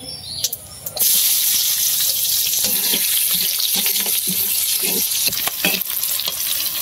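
Chopped onion and garlic hit hot oil in a pan over a wood-fired stove, a loud steady sizzle with stirring scrapes and clinks, beginning after a brief quieter moment.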